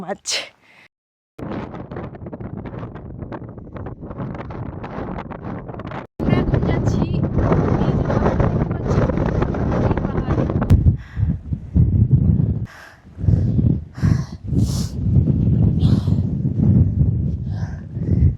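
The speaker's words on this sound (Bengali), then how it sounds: "এত বাতাস হচ্ছে" Strong wind sweeps across a hillside in the Pentland Hills, Scotland, roaring and buffeting the microphone in long loud gusts with brief drops. A person talks at times under the rush.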